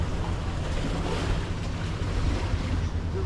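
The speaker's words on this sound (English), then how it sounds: "Got a few waves rolling in here." Waves roll and wash ashore at a beach in Cozumel in a steady, broad rushing surge, with wind buffeting the microphone.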